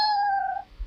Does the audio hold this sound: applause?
no